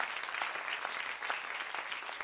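Steady applause from an audience at an awards gala, a dense wash of clapping that holds at an even level throughout without pause.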